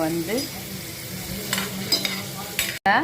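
Garlic masala sizzles in a pan for a Tamil-style colocasia (seppan kizhangu) fry, with repeated scraping strokes from stirring over the steady close frying hiss.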